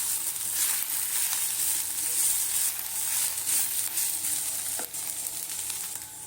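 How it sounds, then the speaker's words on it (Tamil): Onion and vallarai greens sauté in a pan for chutney, a close, continuous crackling sizzle with repeated stirring scrapes and a brief sharp clink near the end. "கீரையும் சேர்த்து நல்லா வதக்கிக்கோங்க"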